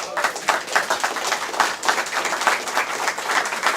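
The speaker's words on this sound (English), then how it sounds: "big round of applause for these guys" An audience gives a warm round of applause at a Japanese skills event, many hands clapping in a steady, moderately loud patter with slight swells and no talking over it.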